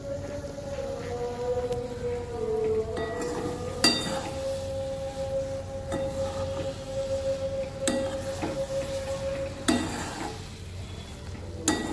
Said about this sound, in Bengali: এটা কিন্তু আমি কনস্ট্যান্ট নাড়ছি, এটা একটুও থামছি না।